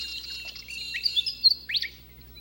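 Bright birds chirp and tweet in short bursts at sunrise in Culgoa Floodplain National Park, with several quick rising calls over a faint low background hum.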